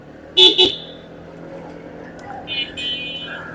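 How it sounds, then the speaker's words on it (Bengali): A Hero horn fitted to a CFMoto 150SC scooter gives two quick, bright honks near the start during a city ride, followed by softer engine and traffic noise and a few fainter horn tones later. "হর্নটা অনেক সুন্দর তাই না এটা খুব সম্ভবত হিরো হর্ন"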